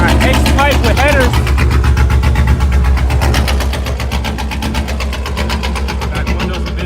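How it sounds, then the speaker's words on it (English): Vandalized Camaro SS with an X-pipe and headers idles loud and rough, a steady throbbing rumble with rapid pulsing exhaust beats, voices briefly heard near the start over the engine. "Car is loud as hell."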